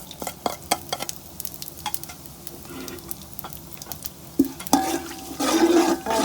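Bay leaf, whole garam masala and white cumin frying in hot oil, a soft crackle with sharp ticks and clinks of stirring, growing into a louder, denser sizzle near the end; no speech.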